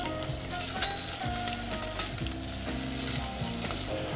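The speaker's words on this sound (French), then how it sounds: "dans la première casserole, on va donc colorer bien comme il faut nos morceaux de lapin" Rabbit pieces sizzle and crackle steadily as they brown in a hot pan, a continuous frying hiss with small pops and occasional stirring clinks, close up.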